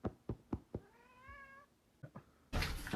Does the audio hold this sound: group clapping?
no